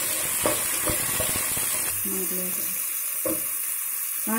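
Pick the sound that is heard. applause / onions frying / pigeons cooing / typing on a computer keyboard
onions frying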